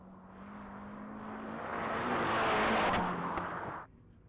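A 1998 Dodge Neon race car at a top-speed mile event passes at full speed as a rising engine roar and wind rush. It swells to a peak and then cuts off abruptly, heard at a distance with no talk.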